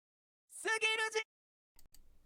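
A short UTAU synthesized singing voice holds a bright note with slight pitch wobbles from small pitch bends, then goes quiet before faint speech begins.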